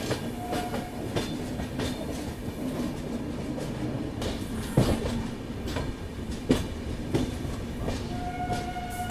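The Lucknow–Kathgodam Express runs steadily on its rails near Lal Kuan junction. Wheels clatter in a rhythmic clickety-clack, heard from inside the coach, with occasional louder rail knocks and a faint squeal.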